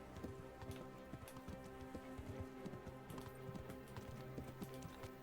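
Horse hooves clip-clop in a steady galloping rhythm as a rider travels in the Kingdom Come Deliverance video game, moderately loud and unbroken, with no talk.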